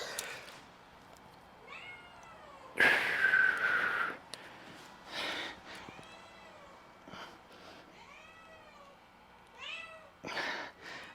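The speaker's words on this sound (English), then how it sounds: "My cat is going fucking crazy. Not happy about being here." An upset cat meows repeatedly, with drawn-out, wavering yowls coming in bursts across several seconds, fairly close, with one louder, harsher cry and some rustling between calls.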